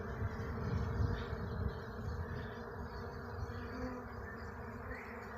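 A honeybee swarm buzzes around a swarm trap on a tree: a dense, steady, close hum of many bees that holds evenly throughout with no voices.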